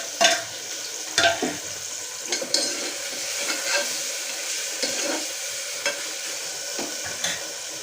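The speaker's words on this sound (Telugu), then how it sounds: "ఈ అల్లం వెల్లుల్లి పేస్ట్ అనేది బాగా వేగిన తర్వాత మనం దానిలో టమోటా యాడ్ చేస్తాను" Tomato frying in a pan with ginger garlic paste, a steady soft sizzle with occasional stirring scrapes and clicks, close and fairly quiet.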